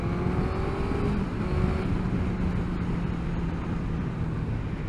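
A 2022 Suzuki GSX-S1000GT with a 1000cc inline-four engine runs with a steady, even drone, fairly constant in level throughout, with a broad rushing noise layered over the motor tone.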